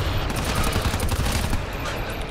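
Shotgun fire in the co-op shooter GTFO, a dense barrage of rapid blasts from a firefight that runs without a break across the whole moment, loud and close.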